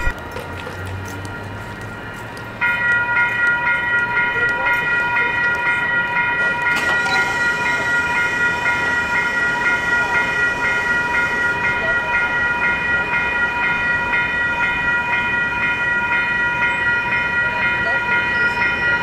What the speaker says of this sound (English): so there's a train coming that way.